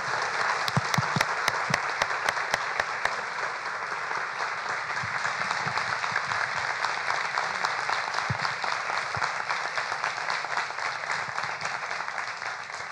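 Sustained, dense applause from an audience at a public talk with Alejandro Gaviria at Parque Explora, loud and even throughout, with a few sharp individual claps standing out near the start, and faint voices underneath.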